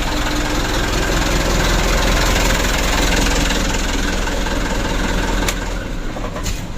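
The diesel engine of a Mitsubishi Canter HDL truck that is blowing thick white smoke runs steadily at idle, loud and close, with a dense continuous rumble.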